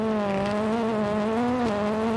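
Ford Fiesta WRC rally car in the video game WRC 9 at Wales Rally GB, a steady high engine whine holding a near-constant pitch with a slight rise and dip.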